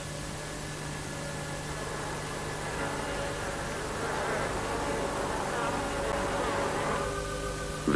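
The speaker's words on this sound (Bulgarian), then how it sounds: "При танца по осморка, пчелата трепва и издава специфичен звук" Honeybees buzz steadily at close range during a waggle dance, a faint but continuous hum that swells slightly midway. A voice talks over the buzzing.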